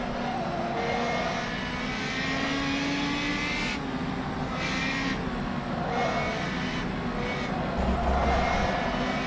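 Engine of a Radical R3 race car on cold tires at Lime Rock Park in a sim racing game, a steady droning whine with shifting pitch and gear changes, continuous and fairly loud without talk.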